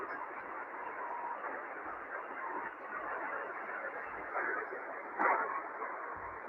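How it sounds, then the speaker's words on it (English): Faint Morse code from a station in Turkey comes through on a shortwave radio, a weak keyed tone buried in steady hiss and static that swells briefly near the end. "we're hearing the Morse code now."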